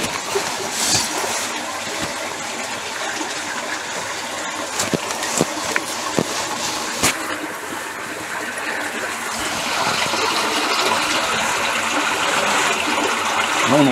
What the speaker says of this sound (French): Là, on entend bien l'eau.